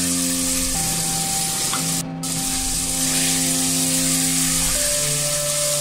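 Chicken karahi sizzling loudly in a wok as green chillies go in, a dense steady frying hiss throughout with a brief dip near the middle, music running underneath.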